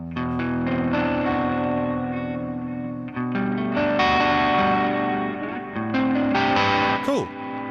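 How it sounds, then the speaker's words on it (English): Electric guitar played through a miked amp cab with a pedal board adding delay and light drive, sustained spacey chords ringing with echo tails and a brief pitch-bending swoop at the end, loud and alone. "Spacey, roomy, bit of delay, bit of drive. Nice little guitar sound."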